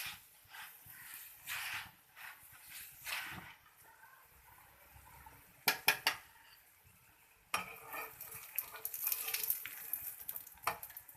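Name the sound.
paratha frying in ghee on a pan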